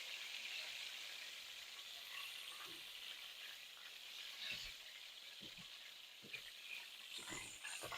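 Pork chops fry in a pan for a Southern home-style meal, with a faint continuous sizzle and occasional soft clicks and taps of a utensil. No voices are heard.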